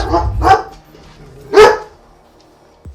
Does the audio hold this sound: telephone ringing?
no